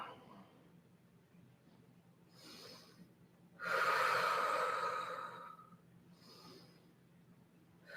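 Slow, deep yoga breathing in puppy pose: a soft inhale, then a long, loud, airy exhale surging up in the middle and easing off, with another quieter breath near the end.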